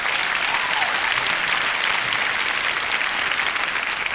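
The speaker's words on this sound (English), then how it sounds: "Give a round of applause." A crowd applauds steadily at a talk after a health update, dense clapping sustained evenly throughout at a loud, constant level with no voices rising above it.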